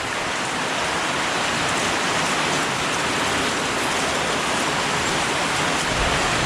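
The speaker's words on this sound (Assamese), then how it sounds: "বহুত বৰষুণ দিছে।" Heavy rain falls outdoors in Lakhimpur town, Assam, as a dense, steady hiss of drops that never lets up. Nothing else is heard.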